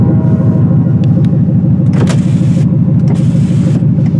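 A junked Lincoln Continental car engine running at a steady idle, a loud close rumble with a few faint clicks and mechanical noises on top.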